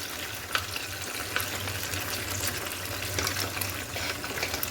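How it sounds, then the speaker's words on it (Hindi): Chicken frying in a pan for quick biryani after a spice paste is added, a soft continuous sizzle with faint stirring scrapes, fairly quiet and without speech. "अब मैं इसमें ये जो मैंने जो पेस्ट बनाया था ये मैं ऐड करूँगी।"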